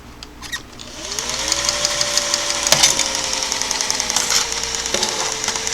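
A sewing machine starts up and runs with its bobbin hook spinning under the slide plate, a close, steady mechanical whir and rapid knocking that rises after a quiet start and keeps going, with a sharp click partway through.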